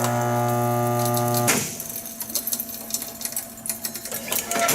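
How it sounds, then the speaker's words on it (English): A spot welder joins zinc-coated metal, burning off the zinc, with a steady loud electrical hum that cuts off abruptly and gives way to crackling, sputtering noise. "Let's weld up the rest of it."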